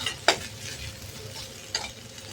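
Katole (spiny gourd) vegetable cooking in oil in a pan, two sharp scraping stirs of a utensil over a soft steady sizzle, close up, no talking.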